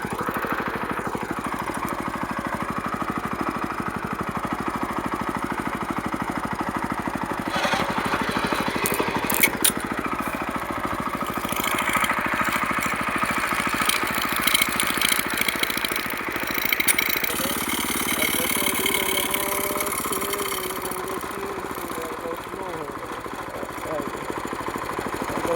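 The engine of a power weeder runs steadily and close by through the whole stretch while it is shifted into reverse gear, with its pitch shifting slightly partway through.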